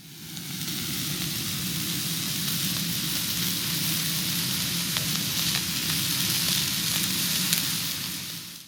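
A massive chunk of steak sizzling at a campsite in New Zealand's Hunua Ranges, a steady, even hiss of frying throughout, soft and close, no talking.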